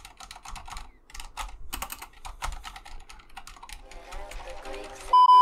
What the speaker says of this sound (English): I've got a Corsair RGB strafe with silent switches. Like, just listen to this, yeah, listen to this, like, the keyboard noise